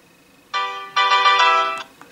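Electronic ringtone on a Doro 507S mobile phone: a short tone, a brief gap, then a longer bright melodic phrase played alone, loud and close.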